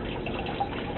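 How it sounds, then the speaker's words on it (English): Water pouring steadily into a bin in a basement aquaponics test system, a continuous soft splashing and trickling stream heard close, with no voices. "you can see I've got water pouring in"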